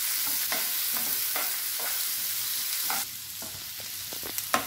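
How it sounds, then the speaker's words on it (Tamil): Onions and curry leaves fry in a pan with a constant close sizzle, broken by soft scraping strokes of a spoon and a few sharper clicks near the end. "கருவேப்பில இது நல்லா வதங்கட்டும்"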